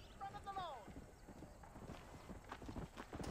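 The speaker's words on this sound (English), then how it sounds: "There's the war horse" Horse hooves clip-clopping in the video game Red Dead Redemption, a rapid, even run of hoof strikes nearing and continuing, with a brief whinny early on and people talking over it.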